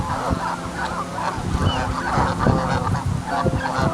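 Geese on a river honk repeatedly in a noisy, overlapping chorus, close and fairly loud, with irregular calls over several seconds and no talk.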